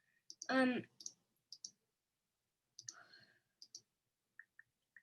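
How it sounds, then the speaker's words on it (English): Computer mouse clicks while building a site in the Wix editor: scattered single and double clicks, close and crisp, with a short burst of nearby speech near the start. "And now I'm gonna click"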